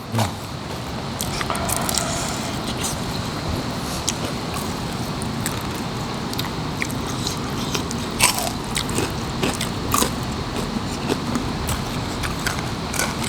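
Crisp, crunchy chewing of fried pork leg in a spicy Thai pounded salad with fresh vegetables, with steady close bites and crackles running throughout and no talk.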